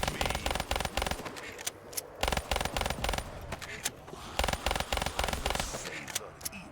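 RK5 gunfire in the Call of Duty zombies map Gorod Krovi: rapid, repeated, crisp shots in quick bursts with short gaps, loud and up close, alongside faint game noise.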